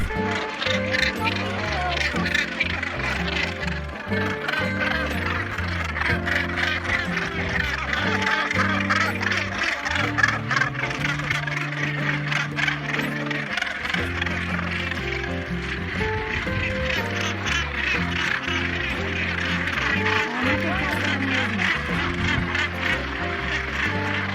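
A northern gannet breeding colony of about 110,000 birds fills the air with a dense, continuous chorus of harsh, overlapping calls, loud and steady throughout.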